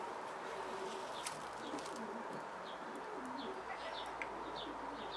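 A racing pigeon, a 2009 cock bird from a Stichelbaut loft, coos in soft, low repeated phrases amid scattered chirps from other birds and a steady loft-like background hum.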